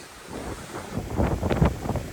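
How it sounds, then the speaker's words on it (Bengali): Strong wind and rain outdoors, a steady rushing roar that swells and gusts louder toward the end, with no voices. "এরকম বাতাস বৃষ্টির মধ্যে প্রচুর বাতাস আর বৃষ্টি প্রচুর"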